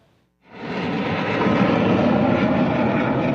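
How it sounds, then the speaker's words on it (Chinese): Chinook military transport helicopters flying low over the presidential office during a national day rehearsal, a loud continuous rotor and engine roar that swells in abruptly and holds steady, with no voices. "挂到北国旗的刺弩克军用运输直升机是飞过总统府的天顶"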